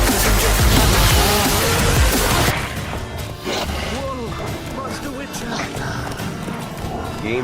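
Horse hooves clop steadily while riding in a medieval fantasy role-playing game. The rhythmic hoofbeats run under game sounds and continuous talking.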